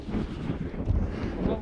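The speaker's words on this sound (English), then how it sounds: "As you can hear, it's a bit breezy." Wind blowing across open hills at a wild camp, a steady broadband rumble and buffeting against the microphone, loud and continuous with gusts rising and falling throughout.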